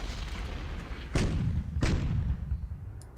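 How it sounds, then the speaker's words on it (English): In a Decisive Campaigns: Case Blue strategy game, two heavy artillery booms strike about half a second apart over a low rumbling bed. Each is a sharp, loud blast with a short decay. "Artillery and heavy artillery."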